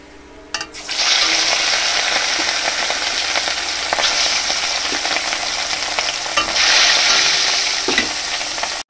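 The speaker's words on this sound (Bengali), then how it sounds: "বাকি মাছগুলো আমি এবার ভেজে নেব।" Catla fish pieces are lowered into hot oil in a kadai, where a loud sizzle suddenly flares up and holds steady and close. It swells again midway as more pieces go in, and a few spatula clinks are heard before it cuts off.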